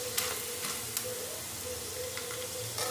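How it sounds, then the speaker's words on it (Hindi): Potato chips frying in hot oil, a steady close sizzle and bubbling hiss with a few brief crackles, no voices. "किस तरह से बिल्कुल वाइट वाइट चिप्स हमारे निकल रहे हैं। फ्राई होके,"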